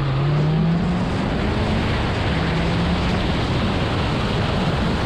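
Turbocharged kit car launching hard down a drag strip, a steady loud roar with a rising engine tone as it pulls through the gears, heard from inside or near the car over broadband wind-like noise.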